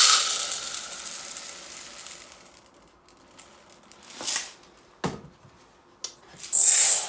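Water washing a kilo of raw minced meat: a steady hiss of running water that fades over the first few seconds, then several short splashes and sloshes close by.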